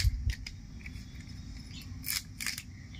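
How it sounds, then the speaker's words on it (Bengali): Water spinach stalks being cut into large pieces, giving a few brief crisp snips, one at the start and more near the end, over quiet background hum with no talk. "কলমি শাকগুলো একটু বড় বড় করেই কেটে নেব,"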